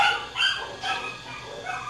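A dog in a family home at Christmas gives a few soft, muffled yips and whimpering barks in a quiet room, fairly faint and without anyone speaking.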